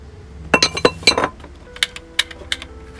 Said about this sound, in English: And just stir everything together.